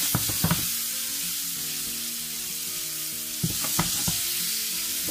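Raxo pork with a pinch of flour fries over high heat, a loud continuous sizzle close by, with a few brief scraping stirs near the start and again toward the end.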